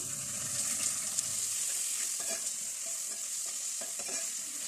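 Tomato with garlic ginger paste frying in a pan for maash dal, a steady close sizzle with occasional stirring scrapes and ticks.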